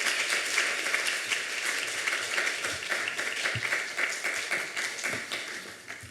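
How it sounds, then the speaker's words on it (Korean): Church youth group clapping as their pastor comes up, a long steady round of applause from a room full of people with a few sharper individual claps, fading slightly at the end. "우리 목사님 나오실 때 우리 큰 박수 한번 부탁드립니다."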